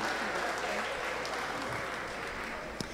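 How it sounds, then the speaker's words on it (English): An audience at an evening event applauds steadily for two contestants, a soft, even wash of clapping throughout with faint voices underneath. "Let's give them a round of applause."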